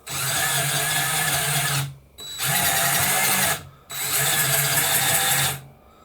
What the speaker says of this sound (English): when I move the controller, the robot wheels are moving